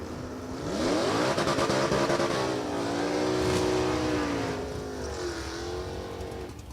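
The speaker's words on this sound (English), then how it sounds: "Classic Chevy 2 SS, 283. Wind it up and away we go." A classic Chevy II SS drag car with a 283 engine launches at the strip, its engine winding up through rising revs in loud sweeping tones, easing briefly, then pulling hard again as it leaves.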